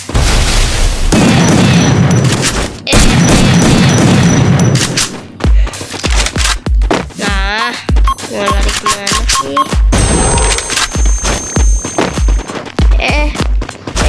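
Bombs and gunfire in the Free Fire battle game: loud booming blasts and rapid sharp shot bursts, dense and continuous at first, then repeated separate cracks and thumps with mechanical game effects between them.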